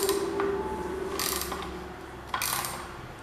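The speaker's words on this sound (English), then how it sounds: "We'll get all these nuts loosened" A hand ratchet loosening nuts on a John Deere 216 lawn mower with a PTO clutch, heard as two close bursts of rapid metallic clicking over a low background hum, with no talking.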